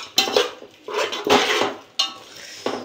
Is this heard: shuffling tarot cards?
no